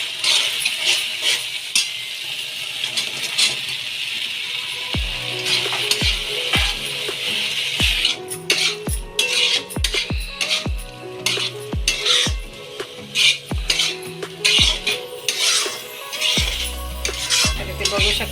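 A utensil stirs fried dry veg Manchurian with green onion and coriander in a hot pan, making sharp metallic clinks and scrapes in an irregular rhythm over a low, steady sizzle. The sound is close and carries no voices.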